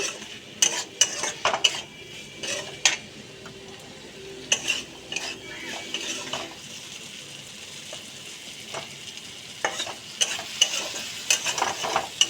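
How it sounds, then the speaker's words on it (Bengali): A spoon scrapes and clinks through a dry potato and capsicum curry with garam masala and sugar in a pan, irregular close stirring strokes over a soft sizzle, no talking. "গরম মশলা আর চিনি। নাড়িয়ে চাড়িয়ে নেব।"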